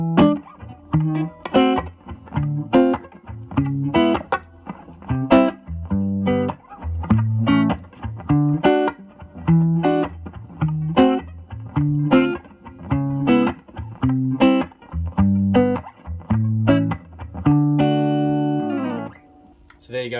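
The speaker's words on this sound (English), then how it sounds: "There's a bit of reverb on there." Electric guitar played through a Crate Vintage Club 50 tube amp with fresh EL84 tubes and a touch of reverb, loud, distorted chords and riffs strummed in a steady rhythm, ending on a sustained chord.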